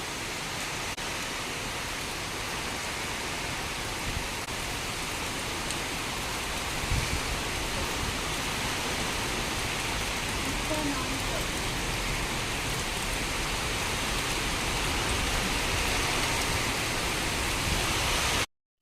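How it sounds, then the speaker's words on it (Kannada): Heavy wind and rain outdoors, a dense continuous roar of rainfall and gusting air filling the whole span at even loudness before cutting off abruptly. "ಎಷ್ಟು ದೊಡ್ಡ ಗಾಳಿ ಮಳೆ ನೋಡಿ ತುಂಬಾ ಜೋರು ಗಾಳಿ ಬರ್ತಾ ಇದೆ ಅದೇ ರೀತಿ ಮಳೆ ಕೂಡ ಇದೆ"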